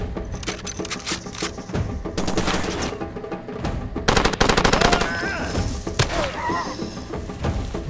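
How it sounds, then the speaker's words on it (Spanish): Rapid bursts of automatic gunfire and heavy thuds rattle through a Far Cry 2 firefight, loud and dense with short pauses, while players talk excitedly over the shooting. "¿Dónde vino ese disparo?"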